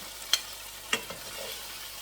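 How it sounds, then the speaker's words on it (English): Cubed steak browning in hot oil in a skillet makes a faint, steady hiss, with two brief clicks of a utensil against the pan and no voices. "make sure that the oil is warm or hot so that your meat will brown"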